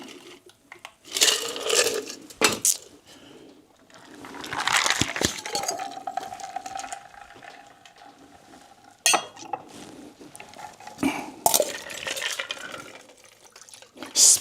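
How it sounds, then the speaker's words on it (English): A drink poured carelessly so it splashes, with clinks of glassware or cutlery and liquid trickling in bursts, fairly close, with quieter stretches between the louder splashes. "Splish splash, I was pouring a drink, and I wasn't very careful."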